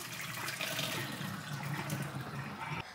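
Boiled potatoes being drained, with water pouring steadily and loudly into a kitchen sink for about three seconds before cutting off near the end.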